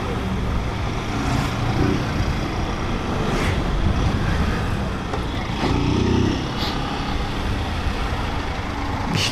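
A delivery motorcycle rides through the streets of São Paulo's south zone, its engine a steady close drone mixed with surrounding traffic noise and no talk.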